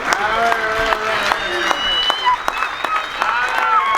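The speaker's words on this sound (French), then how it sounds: "je vais vous demander d'applaudir notre hôte" Guests at a birthday gathering applaud their host, steady clapping of a modest crowd with voices and tonal background sounds running underneath.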